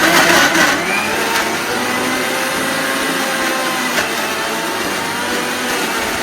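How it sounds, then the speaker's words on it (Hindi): A kitchen mixer grinder blends mango, milk and cream into a smooth puree, giving a steady, loud broadband whir that holds constant from start to end with no talking. "इसके बाद मैंने इसको मिक्सी में पीस लिया है"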